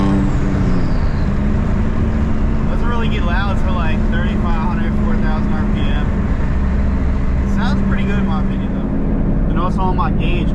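A Nissan 350Z's engine runs loud and steady with a harmonic drone and a brief rev change near the start, heard from inside the car while people talk over it.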